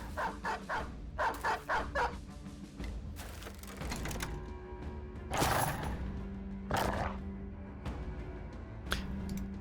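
A dog in a video game barks in a quick burst of several yips early on, followed by scattered single barks and whimpers over a busy game soundtrack with tones and clatter.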